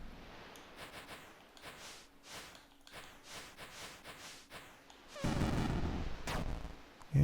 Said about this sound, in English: it's only one explosion